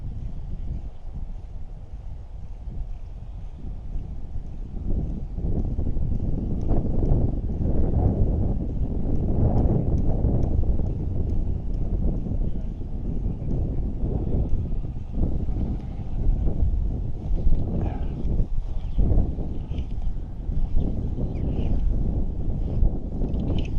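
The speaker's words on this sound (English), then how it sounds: "Casting into that wind" Strong wind buffets the microphone during fly fishing at Graiglwyd Springs in North Wales, making a continuous low, roaring rumble with gusts that swell and fade, loud and close throughout.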